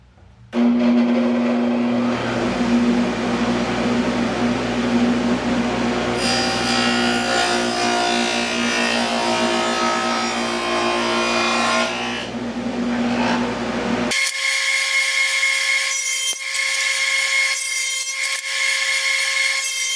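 A saw cuts dados into wood scraps in a steady, loud run of abrasive whirring that shifts in pitch partway through, then stops and leaves a quieter steady hum.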